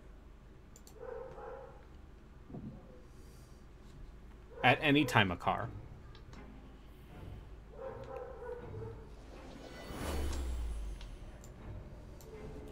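A pet dog barks in a short loud burst midway, with a few fainter yips around it, while someone talks casually nearby.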